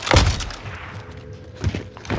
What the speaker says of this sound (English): someone else is shooting us